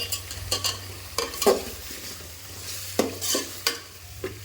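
Potatoes, onions and three large tomatoes frying in a pan as a spoon stirs them, giving intermittent scraping knocks over a low, quiet sizzle, close by.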